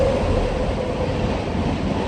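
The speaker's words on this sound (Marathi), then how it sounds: "आता इथे पण ट्रेन आहे पाठीमागे" A train rumbles past behind Kamshet railway station, a continuous low, heavy roar holding steady throughout with no talking over it.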